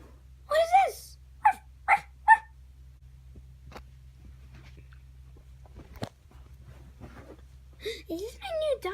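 A dog gives a few short, sharp barks and yips in quick succession, then falls quiet before whimpering, high whining cries near the end. The sounds are close and loud over a low steady hum, and someone talks.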